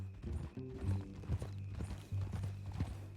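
Horse hooves clip-clop on a ranch in a steady, fairly close rhythm, with a snort or whinny mixed in and a low background hum.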